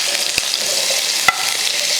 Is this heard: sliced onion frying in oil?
yes